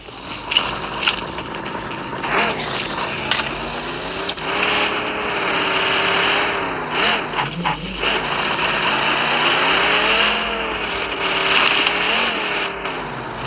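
A vehicle engine in a video game drones continuously, its pitch rising and falling in waves as it revs, loud and steady with a few sharp knocks and clatters on top.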